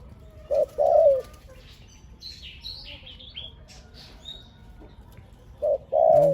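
A decoy dove coos in two short bursts, one near the start and one near the end, with faint bird chirps and background ambience in between.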